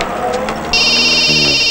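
A telephone begins ringing partway through with a bright, steady electronic trill that cuts in sharply and continues loudly, following a moment of a voice and low background noise.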